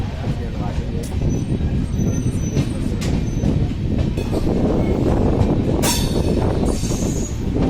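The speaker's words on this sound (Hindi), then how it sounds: "तो ये कोई टूरिस्ट ट्रेन है दोस्तों।" A special tourist train running from Vadodara to Vaishno Devi, heard as a steady, loud rumble of rolling wheels and carriages, with a brief squeal of wheels near the end.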